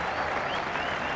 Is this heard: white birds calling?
no